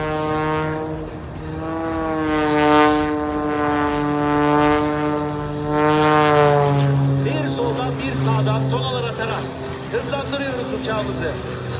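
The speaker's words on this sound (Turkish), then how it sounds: "çekişle birlikte gökyüzüne tırmanıyoruz" A propeller airplane climbs at the 2020 Sivrihisar air show, its strong droning engine note swelling and sliding in pitch as it pulls up, loud and sustained, with a voice heard alongside.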